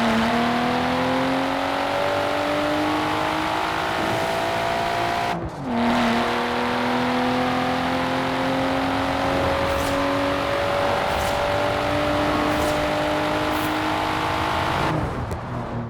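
A Nissan R33 engine in Forza Horizon 4 drones steadily at high revs with rising pitch, briefly cutting out and shifting gears, then climbing again in a continuous loud whine.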